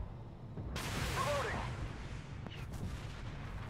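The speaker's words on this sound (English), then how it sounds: "And that was my one missile." Missile fired from an AGDS Abrams tank in the video game Armored Warfare, a sudden loud whooshing blast that sustains and fades over a couple of seconds, with a faint voice speaking.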